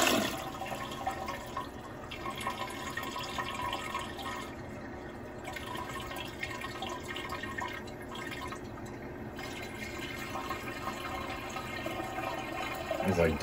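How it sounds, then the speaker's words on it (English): An apartment toilet flushes and refills with a steady, continuous rush of running water throughout, a faint drip-like texture on top and no talking. "So when you flush it, it does this."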